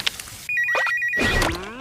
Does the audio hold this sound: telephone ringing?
yes